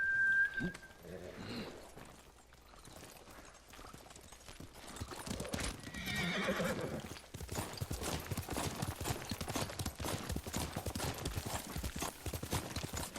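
Hooves clip-clop in a video game as a horse trots and gallops, starting quieter and becoming a dense, steady, loud beat of hoofbeats over the second half, with a brief whistle near the start.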